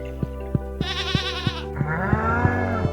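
Goats in the Stardew Valley video game bleat in a few clear, wavering calls, one after another, over a steady game soundtrack with regular soft beats.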